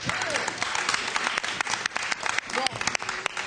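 A studio audience applauds on a French television show, brisk clapping with sharp individual claps standing out, and people talking and reacting over the applause.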